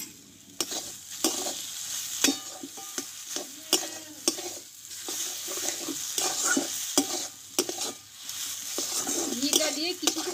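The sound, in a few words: stirring potato filling with ghee in a pan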